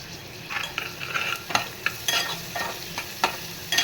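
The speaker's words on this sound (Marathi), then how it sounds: "छानपैकी अशी कढीपत्त्याची पानं पण परतवून घ्यायची आहे" Curry leaves sautéing in a pan, a soft sizzle broken by a run of sharp spatula scrapes and taps, close and fairly quiet, with no talking.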